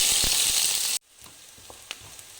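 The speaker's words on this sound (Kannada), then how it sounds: "ಇವಾಗ ಈರುಳ್ಳಿ ಇಷ್ಟು ಫ್ರೈ ಆದರೆ ಸಾಕು" Chopped onions with cumin fry in hot oil, a loud dense sizzle that suddenly cuts off after about a second, leaving faint crackles and light clinks.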